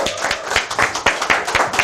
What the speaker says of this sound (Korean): 우리 박종구 대표님 큰 박수로 모시겠습니다